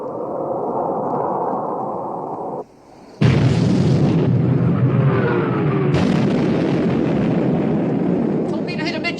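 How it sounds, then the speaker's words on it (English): Naval main armament opens fire in the 1960 British war film Sink the Bismarck!, a loud, dense roar of heavy gun blasts with two sudden new bursts of booming after a brief lull. "Open fire, main armament."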